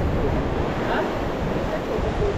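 Small choppy waves lap at a river mouth during shore fishing, a continuous near rush and splash of water with steady wind noise over the microphone.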